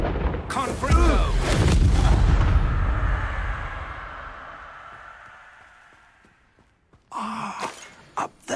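Confringo blasting spell in the Hogwarts Legacy video game: a loud booming blast that rolls out into a long fading rumble, followed by a few sharper impacts.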